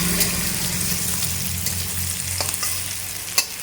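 Potatoes for poha sauté in a pan with a dense close sizzle, steady throughout, with a couple of sharp scrapes from stirring near the end.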